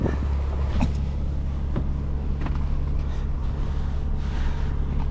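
A 2005 Chrysler Crossfire SRT-6 drives along with a steady, low engine and road drone heard from inside the cabin, with no one talking.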